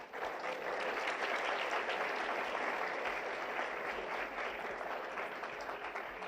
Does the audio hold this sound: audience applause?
yes